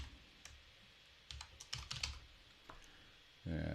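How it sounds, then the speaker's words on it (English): Typing on a computer keyboard, a few soft, close keystrokes in small irregular clusters over a quiet background, ending with a brief louder thump. "So I'm going to type in that room name"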